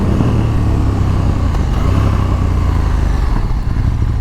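A 2019 KTM 1290 Super Duke R being ridden, its big engine droning loud and steady with a dense, continuous low rumble throughout, no voices over it.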